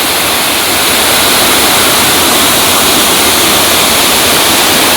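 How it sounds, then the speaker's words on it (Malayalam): Loud, constant roar of water falling at Kachithodu Dam, a dense unbroken hiss like a small waterfall close by, with no talking. "ഇവിടെ നിന്ന് ഒഴുകി വരുന്ന വെള്ളമാണ് ഒരു വെള്ളച്ചാട്ടം പോലെ ഇവിടെ പതിക്കുന്നത്"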